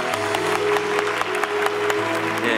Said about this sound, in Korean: 우리 박수 다시 한번.